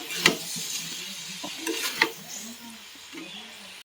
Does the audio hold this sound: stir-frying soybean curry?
yes